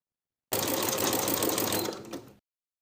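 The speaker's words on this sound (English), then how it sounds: "Overlap the 2 short edges of the elastic by a 1/2 inch and zigzag in place to secure." Sewing machine running a zigzag stitch to secure overlapped elastic ends for a blouse, one steady close burst of rapid needle chatter lasting about two seconds before stopping.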